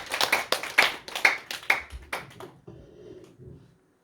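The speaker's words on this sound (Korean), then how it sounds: "우리 다시 한번 힘차게 우리 격려 박수하도록 하시겠습니다." A congregation claps together during a Sunday church service in Korea, a burst of loud, dense applause lasting a couple of seconds before thinning into scattered claps and fading out.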